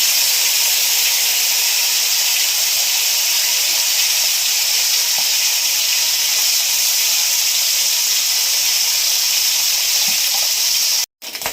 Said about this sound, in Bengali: এই যে মৌরলা মাছ ভেজে নিচ্ছি